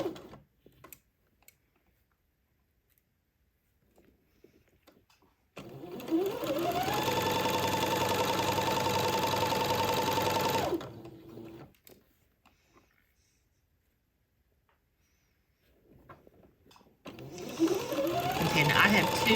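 A home sewing machine runs two long seams on a baby layette garment, with a loud steady buzz for about five seconds, a pause with quiet handling, then another run starting.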